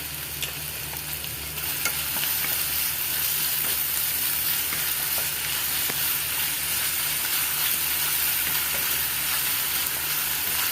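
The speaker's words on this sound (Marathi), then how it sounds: "कांदा आपल्याला तेलामध्ये परतून घेतलेला म्हणजे आपल्याला मीठ टाकून घ्यायचं" Chopped onion sautéing in hot oil with salt in a pan, a steady close sizzle with scraping stir strokes throughout, no talking.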